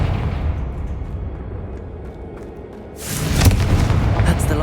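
A Confringo blasting spell explodes in a Harry Potter video game, a sudden loud burst after a low rumbling lead-in, followed by a crackling, booming tail.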